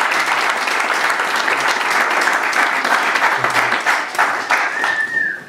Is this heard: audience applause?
yes